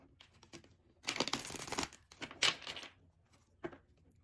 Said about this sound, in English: I already did pre-shuffle my cards. I shall do so once more.